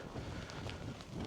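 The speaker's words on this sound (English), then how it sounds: "fluffy mic dead cat is working, folks, because it is quite windy" Strong wind buffets a microphone on the Cornish coast near a creek at Penpol, a steady broadband rush with gusty swells and no speech.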